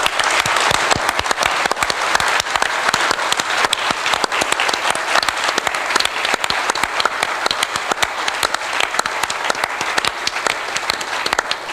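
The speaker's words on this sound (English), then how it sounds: "Can we get another round of applause for all of our presenters yesterday and today?" A conference audience at the Street View Japan Summit 2017 applauds the presenters: dense, steady clapping from many hands, continuous and fairly close for the whole stretch, with no speech.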